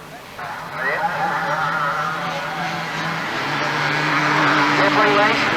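A race car at a Manjimup Allstars race passes with a rising, tonal engine whine that swells and holds near the end, under a commentator talking over the action.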